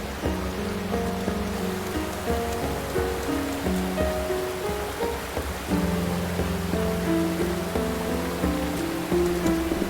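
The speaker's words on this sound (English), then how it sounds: "you can hear what sounds like rain, falling on leaves" Soft, even patter of rain falling on leaves in the video game Eternal Sonata, a continuous hiss beneath layered game music with no talking.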